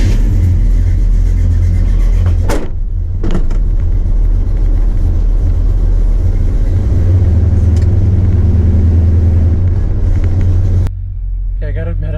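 A 1996 truck engine idling and running nearby, a loud steady low rumble throughout with a few brief bursts of higher noise, ending slightly quieter.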